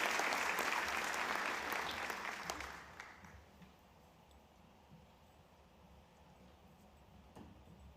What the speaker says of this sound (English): I think Tally deserves another round of applause.